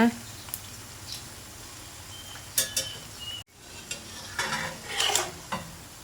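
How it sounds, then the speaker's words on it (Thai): A crispy two-egg omelette fries in oil and is flipped back and forth, with soft sizzling, scraping utensil stirs and a few clinks of a pan coming through at moderate loudness. "เราจะกลับด้านไปมาจนกว่าไข่สุกทั่วและกรอบนะคะ"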